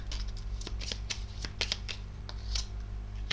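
Tarot cards handled and slid over one another in a quick run of soft shuffling rustles and light taps, close and fairly quiet, with no voice.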